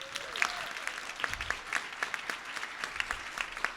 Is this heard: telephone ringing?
no